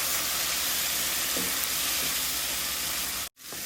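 Ivy gourd curry with onion, chili and tamarind juice frying in oil, a steady dense sizzle and hiss held close and loud until it cuts off abruptly near the end, no voices.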